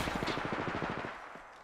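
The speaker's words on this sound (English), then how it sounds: "Where'd they shoot from? Where's that? Recharging my shields. I am taking fire, friend." Rapid automatic gunfire in the Apex Legends video game rattles out in a dense burst lasting over a second, then cuts off.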